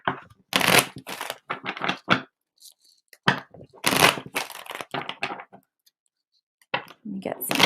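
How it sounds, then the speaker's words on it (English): Tarot cards being shuffled in quick, crisp riffling bursts, close up, with pauses between rounds and a voice talking at points. "So let me get some clearing shuffles in."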